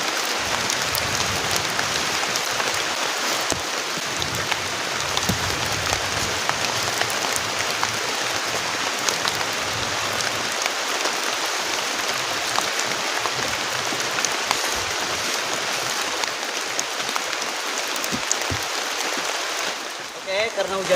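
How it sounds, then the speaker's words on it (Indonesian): Heavy rain pouring down on a campsite during a thunderstorm with strong wind, a dense loud hiss of drops drumming steadily on surfaces for about twenty seconds, close and unbroken. "karena hujannya deras banget"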